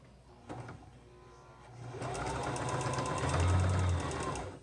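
A sewing machine needle stabs repeatedly up and down without feeding the fabric, a close, fast mechanical whir and chatter that starts after a few soft clicks and runs steadily to the end.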